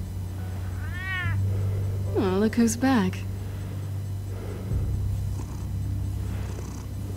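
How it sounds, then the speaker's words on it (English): A cat in the Batman Telltale video game meows twice, first a short call and then a longer, wavering meow, over a low steady hum, with a person speaking briefly nearby. "Hello, cat. Little one."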